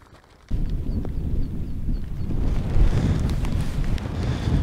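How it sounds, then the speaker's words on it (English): Gusty mountain wind buffets the back of a Hilleberg Soulo solo tent, a steady loud rumbling roar that starts abruptly and keeps surging and flapping, with no talk. "the wind is hitting the back of the tent, which is not ideal"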